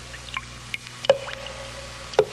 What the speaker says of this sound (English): The sound you hear is dripping blood.